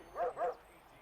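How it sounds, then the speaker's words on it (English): A dog gives two quick barks, close together and fairly faint, followed by quiet. "them dogs is barking"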